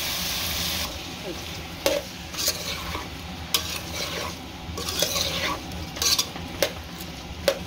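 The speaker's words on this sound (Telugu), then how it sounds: "ఇప్పుడు బుడమకాయ ముక్కలు వేసి కలుపుకున్నాం కదా" Pieces of yellow round cucumber stirred in oil in a pan for a curry, with a steady close sizzle and repeated spoon clinks and scrapes against the pan.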